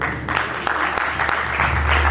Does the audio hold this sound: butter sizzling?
no